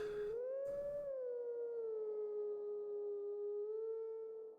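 Wolf Link in the video game Twilight Princess howls the Snow Peak song, a single sustained, tonal howl that rises slightly, then holds and glides downward, loud and steady over a faint game background.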